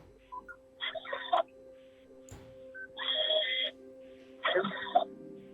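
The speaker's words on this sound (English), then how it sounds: "the beeps of her scanning in these gift cards, the beep, beep" Three bursts of electronic beeping from a self-checkout scanner scanning gift cards, each a cluster of tones about a second long, with quiet gaps between them.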